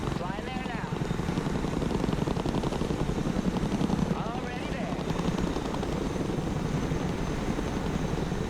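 Helicopter in the war video game Broken Arrow, a loud steady rotor thrum with chopping blade pulses throughout, over someone talking.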